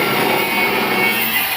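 A grinder cutter cuts metal in a vehicle repair workshop in Jagatpur, Cuttack, producing a loud, continuous, harsh grinding rasp that holds steady throughout without pause.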